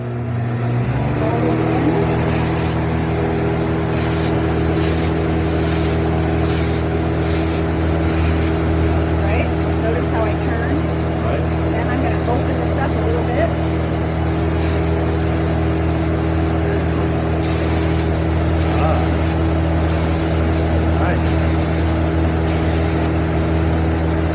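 A spray gun spraying black magic slip onto a pottery piece hisses continuously over a steady compressor hum, loud and close throughout with no breaks.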